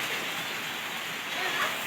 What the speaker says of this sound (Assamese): বৰষুণ কৰি আছে